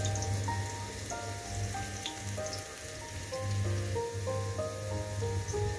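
Chopped garlic frying in a pan until it turns brown, a steady close crackling sizzle that runs on without a break, with faint tonal notes from background music above it.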